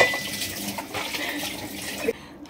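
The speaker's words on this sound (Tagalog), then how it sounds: "tapos maghugas ng mga plato, mga hugasan" Dishes being washed under a running tap, with a steady hiss of water and faint clinks of plates, ending abruptly, and no talk.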